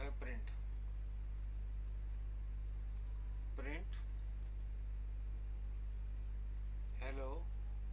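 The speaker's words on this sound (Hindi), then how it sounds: "हेलो वर्ल्ड टाइप करने के बाद जैसे ही हम एंटर करते हैं" Faint, quick clicks from a computer keyboard as a short phrase is typed, over a steady electrical hum, with brief bits of a voice in between.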